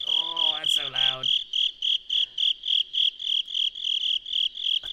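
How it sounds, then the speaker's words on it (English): Loud crickets chirp near a cave entrance in a video game, a steady high-pitched pulsing chorus that repeats in even bursts, with a brief voice and a croaking sound at the start. "Boy, these crickets are loud."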